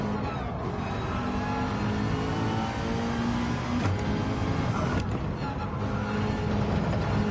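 Race car engines from Gran Turismo 7 during a Gr4 Trophy race drone loudly and continuously, with a steady high whine and gear-shift dips in pitch; no talking.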